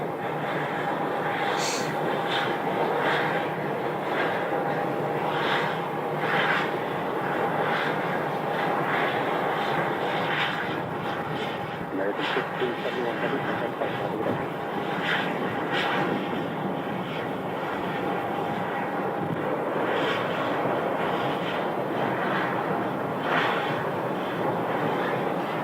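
A Spirit Airlines airliner arriving at Phoenix Sky Harbor gives off a steady, distant jet roar that holds at a fairly even level for nearly half a minute against open outdoor ambience.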